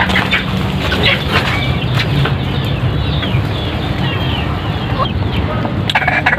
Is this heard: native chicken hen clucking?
yes